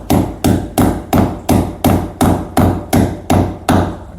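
A hammer strikes wood in a steady series of eleven sharp, loud, evenly spaced blows at close range, while an old nail is being worked out.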